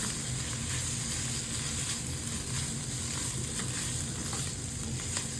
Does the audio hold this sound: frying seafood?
yes